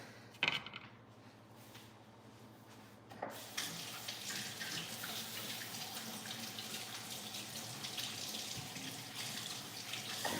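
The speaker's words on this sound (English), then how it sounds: "I'm gonna wash my hands." A kitchen faucet running steadily while someone washes their hands, with a brief clatter at the start, then a loud continuous gush of water.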